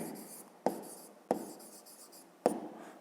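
A pen writes a short note on paper during a fifth-grade geometry exercise about angles, giving soft continuous scratching strokes broken by three sharp taps, close and quiet.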